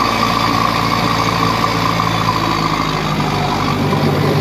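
A Massey Ferguson 2635 75 hp tractor runs steadily while pulling a 12 ft rotavator, a loud continuous diesel drone with a broad mechanical roar and no pauses, alone without voices.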